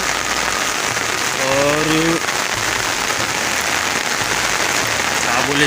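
Heavy rain pours down in a village during river flooding, a dense, constant hiss of drops filling the whole stretch, with a brief spoken word underneath.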